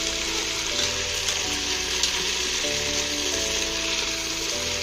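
Chilli chicken frying in a pan on a low flame, a steady, even sizzle that stays close and constant throughout, with soft music tones running underneath.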